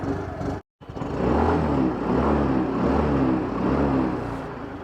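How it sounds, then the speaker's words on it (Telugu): A 2025 Yamaha Fascino Fi hybrid scooter idling close by with a steady, even exhaust putter, briefly cut off near the start before running on. "ఈ స్కూటర్ యొక్క ఎగ్జాస్ట్ నోట్ అయితే ఒకసారి వినండి"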